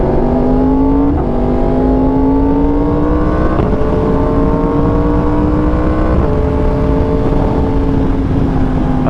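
A Yamaha R1 motorcycle engine revs steadily and loud, its pitch climbing then dropping at each of several gear shifts spaced a few seconds apart, with a constant close roar throughout.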